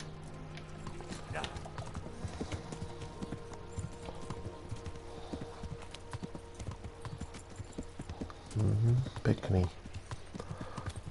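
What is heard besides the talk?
horse hooves clip-clopping, from a video game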